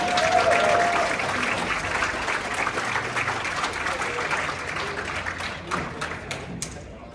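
An audience claps and cheers loudly, the applause gradually thinning and fading toward the end, with a few voices mixed in.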